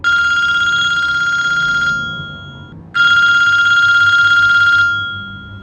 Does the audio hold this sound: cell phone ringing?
yes